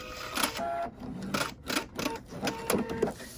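A home sewing machine stitching a scrub cap seam, running in short bursts of fast rhythmic whirring with brief pauses between, close and moderately quiet.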